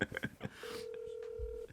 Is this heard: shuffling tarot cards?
no